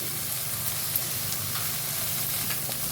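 Egg curry fries in a pan with fresh coriander leaves, giving a steady, close crackling sizzle with faint stirring scrapes throughout. No voices are heard.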